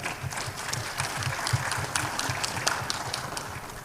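An audience at a national working meeting applauds steadily, a dense patter of many hands clapping throughout, fairly loud and sustained with no speech over it.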